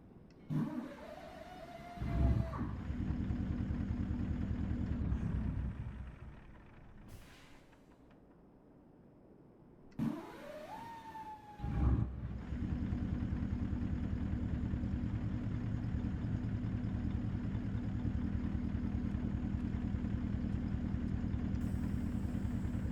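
Caterpillar V8 engine in a Peterbilt truck in American Truck Simulator cranks and starts twice, a rising starter whine each time before a loud, deep, steady diesel idle rumble settles in.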